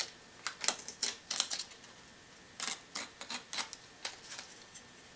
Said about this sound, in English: when you strip the tape away